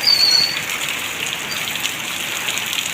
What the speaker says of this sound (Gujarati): જામ કંડોળા ગ્રામ્ય વિસ્તારની અંદર જે વરસાદ જે વરસી રહ્યો છે ધોધમાર મુસળધાર જે વરસાદ જે વરસી રહ્યો છે